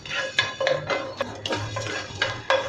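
Coriander seeds and Kashmiri chillies dry-roasting in an oil-free kadai, with a rhythmic series of sharp metallic scrapes and clinks from a spatula tossing them, close and clear without talk.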